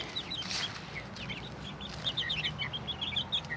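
Young chickens newly let out near a freshly built coop give short high chirps and soft clucks in scattered bursts, fairly close and moderately faint over a low background hum.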